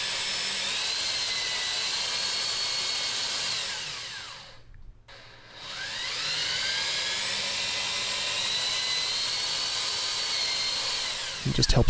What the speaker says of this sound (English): when operating it without the depth stop, there are springs on the sides, so it sort of gives the drill a little bit of upward resistance.